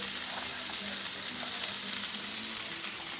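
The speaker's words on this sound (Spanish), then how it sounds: "vamos a sofreír" Chopped spring onions frying in a hot pan as the base of a spicy sauce for Argentine locro, a steady dense sizzle that stays loud and even throughout with no voices.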